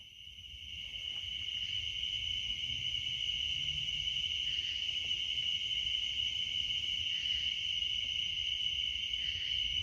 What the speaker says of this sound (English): Like I hear crickets and stuff.